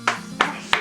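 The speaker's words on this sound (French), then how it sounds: "avec moi, on applaudit." Three sharp, evenly spaced hand claps from a small group, close and loud, each a quick burst with no talking between them.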